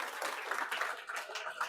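Applause at an Independence Day celebration at a government high school, welcoming an elderly veteran to the stage; a dense, steady wash of clapping that is fairly quiet and distant, with a faint voice underneath.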